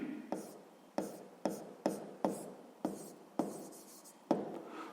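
A pen scratches across paper in a run of about eight quick, close strokes while a sixth-grade maths exercise is worked out, each stroke starting sharply and trailing off.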